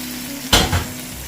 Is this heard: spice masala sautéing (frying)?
yes